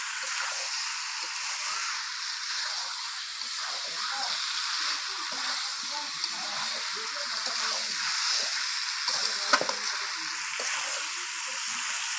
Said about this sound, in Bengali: ভালোভাবে কাঁঠাল আলু ভালোভাবে আমি মশলার সাথে কষিয়ে নিলাম